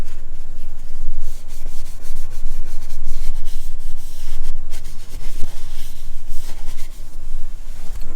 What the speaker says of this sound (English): I'm just going to take some rubbing alcohol and clean off the surface here